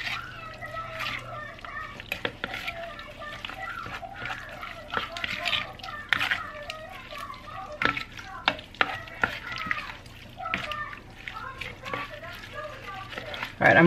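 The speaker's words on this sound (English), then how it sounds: "And I'm gonna go ahead and mix that around." Ground beef with taco seasoning and water being stirred in a pot: intermittent scraping and wet sloshing with soft sizzling, close up, while voices, including children, talk throughout.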